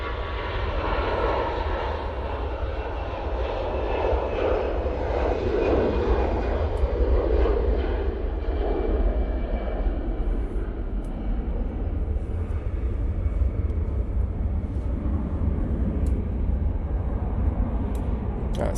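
Jet aircraft at Manchester Airport send out a steady, heavy engine rumble with a broad roar that stays continuous and moderately loud, slowly easing toward the end.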